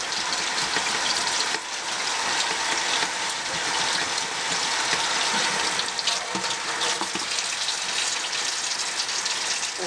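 Running water rinsing makeup brushes, including big fluffy ones: a continuous gushing splash from a tap, close and steady, with brief shifts as the brushes move under the stream.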